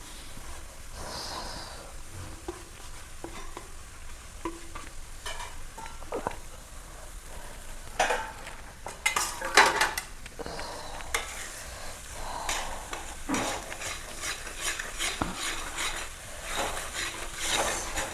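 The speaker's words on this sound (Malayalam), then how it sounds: "ഇതെല്ലാം കൂടി ഒരുമിച്ച് കൂട്ടി യോജിപ്പിച്ച് കൊടുക്കാം" Egg thoran with freshly added grated coconut stirred in a pan over raised heat, a spatula scraping and tossing in irregular strokes over a soft sizzle, with several louder clusters of scrapes midway.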